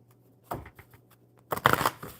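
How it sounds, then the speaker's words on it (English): Deck of cards being shuffled by hand, a few short riffling bursts with a brief pause between them, close and fairly quiet. "one more good shuffle, Sonakshi."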